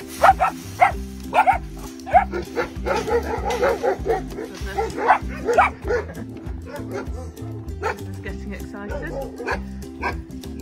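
A puppy in a pen gives repeated high yips and whimpers, close and fairly loud, over a steady low hum.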